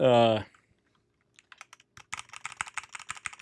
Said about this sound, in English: this mechanical keyboard. This is my Melgeek 86.